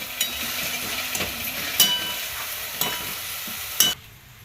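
Fenugreek greens being stirred in a hot pan, a steady sizzle broken by a few sharp scraping strokes of the spoon, close and fairly loud, ending abruptly in near silence.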